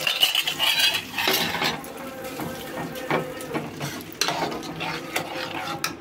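A spoon clinks and scrapes against a pan while cucumber chutney is stirred after a tempering with curry leaves, with a faint sizzle underneath and irregular clatter throughout.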